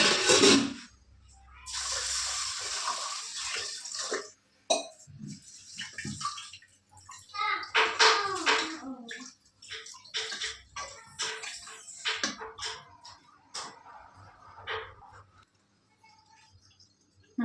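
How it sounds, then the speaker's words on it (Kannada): Rice and moong dal washed together in water in a home kitchen, with bursts of pouring and sloshing, swishing grains and rinse water splashing, close up in irregular spells separated by short quiet gaps. "ಎರಡು ಮಿಕ್ಸ್ ಮಾಡಿ ನೀಟಾಗಿ ತೊಳ್ಕೊಂಡ್ಬಿಡೋಣ"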